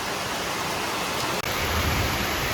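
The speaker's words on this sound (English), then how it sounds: "You can see the rain coming off the roof of the building here." Heavy rain pours off a building roof near Dragon and Phoenix Falls in Taoyuan City, a dense, continuous hiss and splash that fills the scene without pause.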